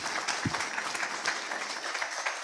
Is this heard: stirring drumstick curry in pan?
no